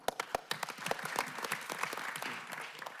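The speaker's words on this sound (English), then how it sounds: "So I want to applaud you again for your courage and tenacity and commitment to community." Applause at a city council meeting, scattered crisp claps from a modest audience building into a thicker patter over a few seconds, moderately near with faint murmuring underneath.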